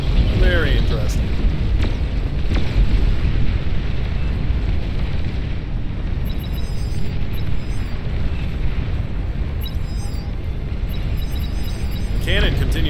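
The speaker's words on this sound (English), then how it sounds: "The cannon continues to fire" Cannon fire in the strategy game Beyond All Reason booms continuously under a dense wash of battle noise, loud and unbroken, with a few brief beeps of game effects scattered through.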